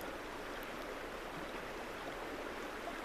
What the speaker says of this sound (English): As I listen to the sound of the river.